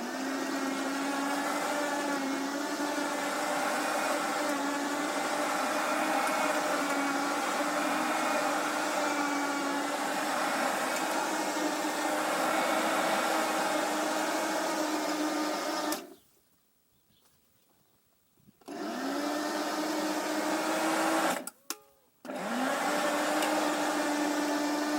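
A Parkside PEBH 1500 B2 electric tiller (1500 W, 40 cm) churns already loosened garden soil. Its motor gives a steady, loud, whining drone that cuts out twice, once for a few seconds and once briefly, before starting up again.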